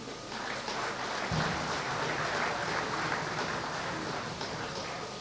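A crowd applauds steadily at a groundbreaking ceremony for business-zone infrastructure in Komenda, Slovenia, 2005, a dense wash of clapping that swells in after a moment and continues without pause.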